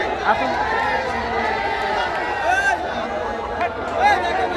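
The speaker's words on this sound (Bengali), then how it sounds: "আসলে হাটে উৎসুক জনতার ভিড়।" Dense crowd chatter and overlapping voices at the Gabtoli cattle market during the Qurbani season, with a steady, busy hubbub of many people talking and calling out, some shouts rising above the babble.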